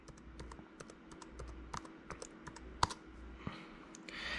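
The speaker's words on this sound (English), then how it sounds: "type in my password," Keystrokes on a Mac keyboard as a password is entered, a quick irregular run of soft clicks over low room hum, with one sharper tap near the middle.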